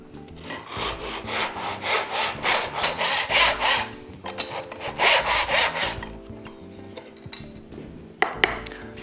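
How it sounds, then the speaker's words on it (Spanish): A hand saw cuts through a wooden moulding in a rhythmic series of close back-and-forth strokes, pausing briefly midway and ending with a few light knocks. "Introducimos ahora la moldura y podemos empezar a cortar."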